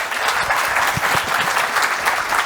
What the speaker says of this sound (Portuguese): Uma salva de palmas para o Denis,